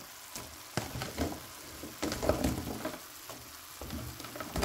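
Carrots and other vegetables sautéing in a pan, a soft sizzle broken by stirring scrapes and clatters, close and fairly quiet.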